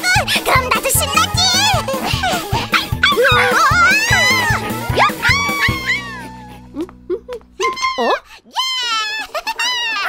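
Cartoon dogs in an animated series bark, yip and whimper in quick, loud bursts, tangled with excited child-like voices and a bouncy music bed.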